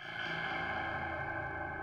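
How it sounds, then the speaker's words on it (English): Boom sound effect in Scratch 3.0 with an echo effect applied, a sustained, dense, ringing tone with layered repeats that fills the whole clip at moderate level, with no speech. "So if you add like an echo effect,"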